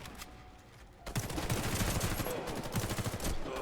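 Rapid automatic bursts from a ZX84 submachine gun in the shooter game Warface, starting after a quiet second and continuing as dense, loud sustained fire with slight stutters, close to the listener.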